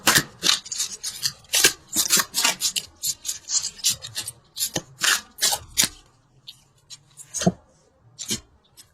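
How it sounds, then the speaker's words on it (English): Tarot cards being shuffled and pulled during a love reading, a close run of crisp riffling, brushing and snapping bursts in quick irregular rhythm, thinning out into a few sparse flicks near the end. "let's pull a couple universal love cards."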